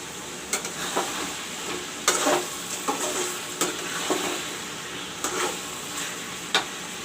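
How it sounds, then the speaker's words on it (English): Chicken sizzles in hot oil with a steady frying hiss, broken by scattered pops and crackles, with no voices. "Friends, you can see the chicken frying. This is the chicken frying."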